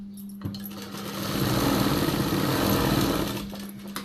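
An electric sewing machine runs a tuck seam on a blouse, its motor starting with a click and building to a steady, close whirring hum for about three seconds before easing off, with no voices.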